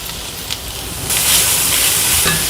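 Grated cauliflower tipped into a pan of onions frying in oil, a soft sizzle that jumps to a loud, sustained hiss once the cauliflower lands, with a light clatter and no talking.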